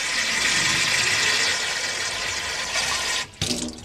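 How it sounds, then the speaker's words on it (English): Tap water pours steadily and loudly into a UV self-cleaning water bottle, a continuous close rushing stream that cuts off briefly near the end before a short splash resumes. "We're gonna open it up and pour in the water from the tap water."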